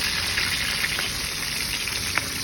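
Milkfish (bangus) coated in flour and egg frying in hot oil, giving a steady dense sizzle with occasional small pops and crackles and no talk.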